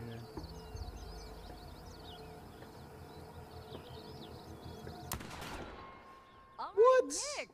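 Gunfire in The Quarry video game: a few sharp shots, the clearest near the end, set against a busy game soundscape with a rising electronic tone closing out the clip.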